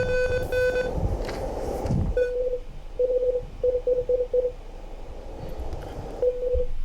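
Morse code for AGN sent over ham radio: short and longer bursts of a single steady beep tone repeat in an on-off pattern, after a brief burst of rustling noise at the start.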